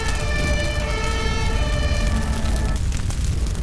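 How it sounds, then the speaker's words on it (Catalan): A wailing fire engine siren with sustained tonal harmonics over a loud, rumbling background, steady throughout before fading slightly at the end. "Per fi arriben els bombers"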